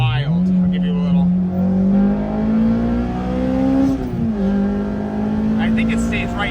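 A 2002–2006 Acura RSX Type-S with an Injen short ram cold air intake revs from inside the cabin, its loud engine note climbing, holding high into VTEC, dipping briefly, then pulling again.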